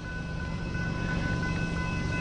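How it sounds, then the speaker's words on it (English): Train halted in downtown Tupelo, Mississippi, giving a steady low rumble with a faint sustained tonal hum, moderately distant and continuous, with no talking. "Train just stopped right there."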